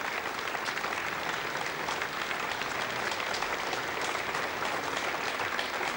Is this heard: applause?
yes